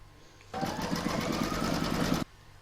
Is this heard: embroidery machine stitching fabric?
yes